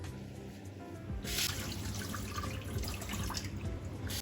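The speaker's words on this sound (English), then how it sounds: "Wash my sabudana nicely." Sago pearls (sabudana) are rinsed in a bowl of water to wash off the starch, giving a continuous close sloshing and trickling of water with small splashes, steady throughout and without speech.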